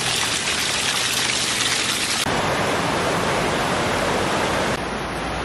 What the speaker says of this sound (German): dass es alles eigentlich Schmelzwasser sein muss vom Berg oben vom Gletscher